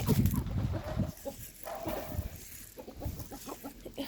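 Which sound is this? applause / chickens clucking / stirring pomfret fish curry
chickens clucking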